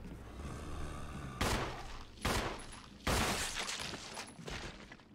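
Gunfire in Resident Evil HD Remaster, three or four loud, sharp shots spaced about a second apart, each with a crashing burst that decays into a lingering tail, no speech.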